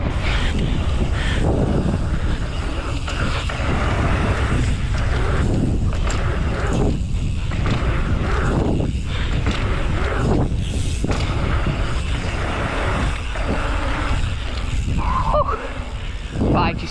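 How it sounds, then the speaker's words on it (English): Heavy, continuous wind buffeting a microphone outdoors at a bike pump track, loud low rumbling gusts throughout with faint voices underneath. "Bit windy."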